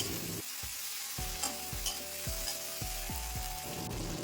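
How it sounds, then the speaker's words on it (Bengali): Chopped tomato and green chilli stirred in hot frying oil: a steady, close sizzle broken by regular scraping spatula strokes, with no voices. "তারপর টমেটো আর কাঁচা লঙ্কা তেলের সাথে খুব ভালো করে মিশিয়ে নেব"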